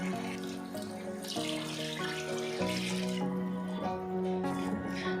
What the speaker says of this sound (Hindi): अब मैं इसमें यखनी डाल दूँगी